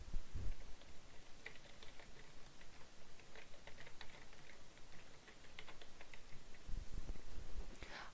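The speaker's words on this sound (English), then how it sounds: "I'm going to type in animal research project" Steady typing on a computer keyboard, a run of quick light clicks over about eight seconds with a brief pause midway and a slightly heavier burst of keystrokes near the end, close and alone without talk.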